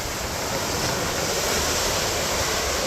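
Waves crash on the beach at Presque Isle on Lake Erie in a loud, continuous roar of surf that fills the whole short stretch, with no voices.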